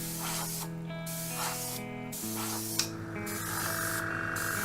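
An aerosol can sprays flat varnish onto the flesh-colored parts of an MPC 1/9 Mean Machine model kit, giving a steady, close hiss that runs in several sustained bursts with brief pauses between them.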